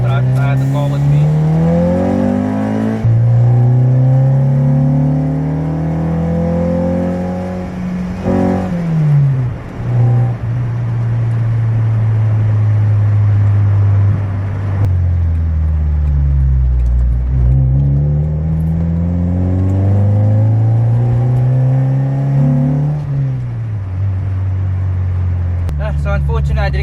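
A Honda Civic EK running a D15/D16 hybrid engine drones steadily while driving, its engine note rising and falling through gear changes, loud and close from inside the cabin, with a voice talking over it at times.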